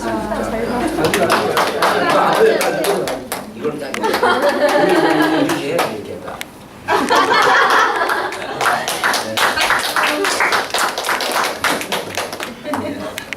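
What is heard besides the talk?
congregation clapping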